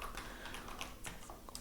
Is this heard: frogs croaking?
no